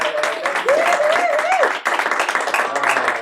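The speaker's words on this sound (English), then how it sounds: "Give a round of applause for Raza Jafri!" A comedy club audience claps for a comedian being introduced on stage, a sustained burst of applause with a brief voice or whoop rising above it partway through.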